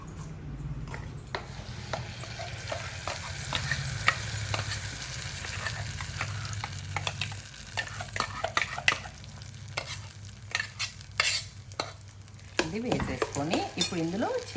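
Ground peanut paste frying in a hot tempering with curry leaves, a steady low sizzle broken by repeated spoon scrapes and stirring clatter against the pan, close and fairly quiet, with no talking.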